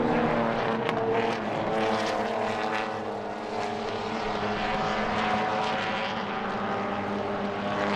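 Race cars at a WA Sporting Car Club race in 2023 running side by side out of turn one on a restart, engines droning loud and steady with shifting pitch for the whole stretch.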